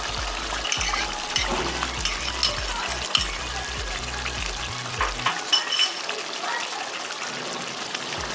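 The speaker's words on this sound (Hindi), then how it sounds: "यहाँ मैं इसमें ठंडा हुआ दही ऐड करूँगी।" Chicken karahi cooks in a pan after cooled yogurt is added, with a busy close sizzle and bubbling under frequent stirring and scraping, and the frying quietens a little toward the end.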